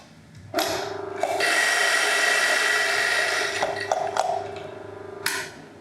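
Coffee beans being ground for AeroPress brewing, coarser than for V60, in an electric grinder that starts abruptly, holds a loud steady whirring drone for several seconds, then winds down with a final short burst.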